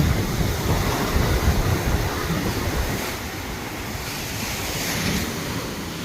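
Sea waves washing onto the shore of a beach near Jaffna, a steady, full rush of surf blended with wind noise on the microphone, continuous and fairly loud, with no voices.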